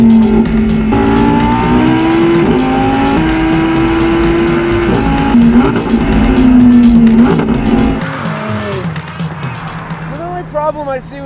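A 2014 Audi R8 on snow tires driving a mountain road, its engine droning loud and steady with shifting pitch, then revving and rising toward the end, a voice talking over it.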